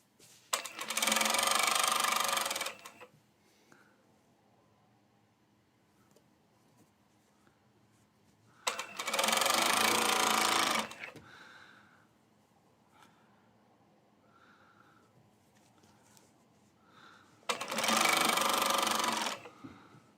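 A sewing machine joins fabric good side to good side from the top down, buzzing in three separate runs of a couple of seconds each, with quiet gaps holding faint handling sounds.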